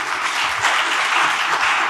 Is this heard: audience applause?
yes